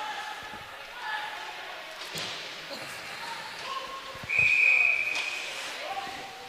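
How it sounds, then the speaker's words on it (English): Referee's whistle at a Des Moines Capitals ice hockey game, a single sharp, steady blast of about half a second rising over the constant rink and crowd noise. "And we're going to get a whistle."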